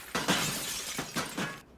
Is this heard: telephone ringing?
no